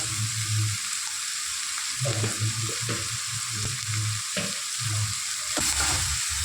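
Onions fry until golden in a pan, a continuous loud sizzle broken by repeated stirring clatters and scrapes, close and without any talk.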